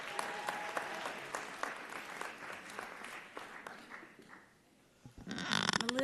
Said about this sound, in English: Round of applause for Dr. Gunner.